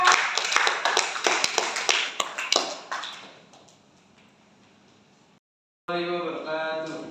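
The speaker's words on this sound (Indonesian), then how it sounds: "Tepuk tangan kelompok 4." Classroom clapping as a student group is called to the front: a burst of sharp, fairly close hand claps that fades out after about three seconds, followed by a short pause and then voices.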